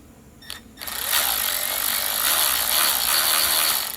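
Mechanical ratcheting from a screwdriver backing out screws on a Daiwa 7850RL fishing reel during servicing, a close, continuous gritty clicking that starts after a short pause and runs steadily to the end.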